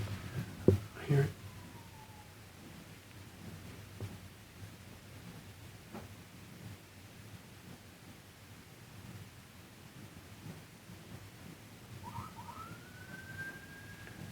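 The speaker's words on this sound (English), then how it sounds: "That's a police siren" Distant police car siren wailing faintly outdoors at a remote desert cabin, with a rising and falling tone heard early and again near the end over quiet background and soft voices.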